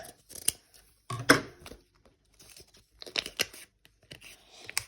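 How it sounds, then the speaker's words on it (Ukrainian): Scissors snip through a crinkly paper surprise bag in a few quick cuts, with rustling and tearing in between, close by and fairly quiet. "давайте візьмемо ножиці і ми розріжемо наш пакетик."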